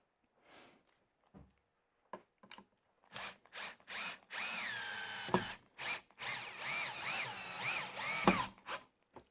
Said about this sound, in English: the screw will find that pilot hole and pull you into the right spot